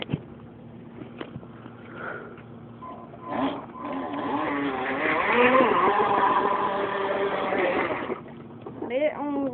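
A remote control boat runs on a lake, its small motor giving a steady whining drone that swells and rises in pitch as it speeds up, with brief voices over it near the start and end.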